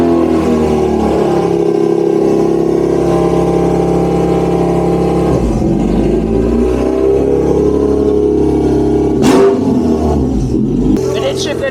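A Honda B18C with an 85mm bore runs loud and close on a dyno, holding a steady high rev with small dips and rises and one brief sharp transient near the end, while people talk faintly.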